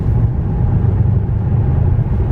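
A Mercedes C63 AMG's exhaust gives a steady, deep, low rumble from the rear while cruising gently on a cold engine, heard from inside the cabin with no voices.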